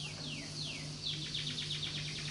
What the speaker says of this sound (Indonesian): Ini burungnya juga memuji.